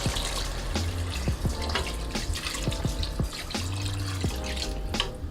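Roughly three and a half cups of water pour into a pot of browned chicken for chicken noodle soup, a continuous close splashing stream broken by a few drips, with no talking.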